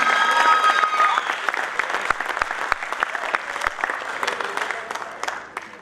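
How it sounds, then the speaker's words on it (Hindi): Theatre audience applauding during a comedy stage play, a dense roll of clapping that starts loud and gradually thins, with a few sharp individual claps standing out near the end. "संजय शुक्ला जी, जल्दी जोरदार तालियां के लिए भी।"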